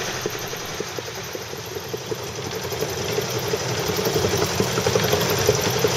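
A KTL-144 boat engine runs at full throttle, heading into the wind and swell against the tide. It makes a loud, steady, close droning roar with a rapid rhythmic pulsing throughout.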